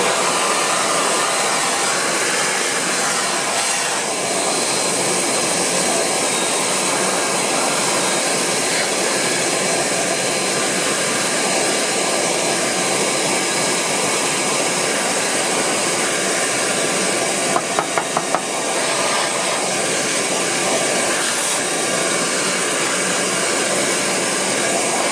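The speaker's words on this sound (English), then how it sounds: "We need to vacuum clean the dust." A vacuum cleaner draws dust out of a Millenium DI box under repair, its steady airy roar running loud and unbroken for the whole stretch, with a few faint clicks near the end.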